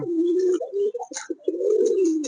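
Pigeons coo close by in soft, throaty, rolling phrases, with a brief pause between two long bouts.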